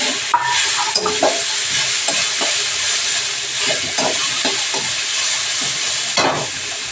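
Chickpeas fry with spices in hot oil for masala idli, giving a loud, continuous close sizzle and hiss with intermittent scraping stirs of a spoon across the pan.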